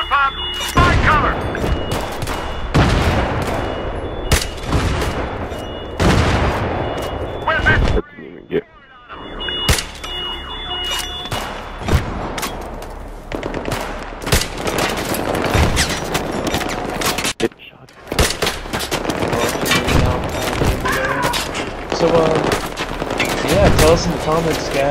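Battlefield 3 combat fills the scene with loud, dense gunfire, rapid automatic bursts and heavier mortar booms, nearly continuous apart from two brief lulls, while voices talk beneath the battle.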